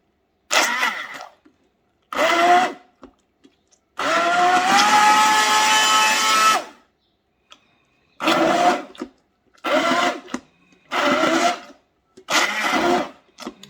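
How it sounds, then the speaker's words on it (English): Bursts of an immersion blender blending beans in short pulses, one long run of about three seconds followed by several quick bursts separated by silence. "I'm going to go ahead and use my immersion blender."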